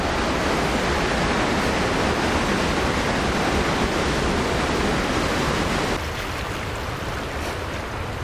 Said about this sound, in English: Oh, now there's logs moving around and these gigantic waves.